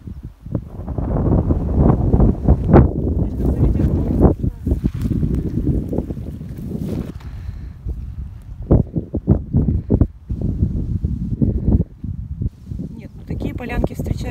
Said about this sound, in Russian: Довольно сильный ветер дует.